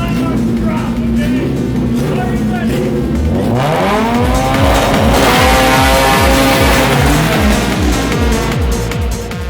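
A Honda Civic EG6 drag car launches off the start line on slicks, engine revving hard and climbing through rapid gear changes, loud and close with a rising whine and tire noise.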